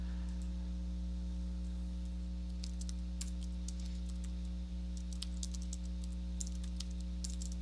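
Rapid, irregular clicking of a computer keyboard being typed on, moderately close, over a steady electrical hum and background hiss, with no voices.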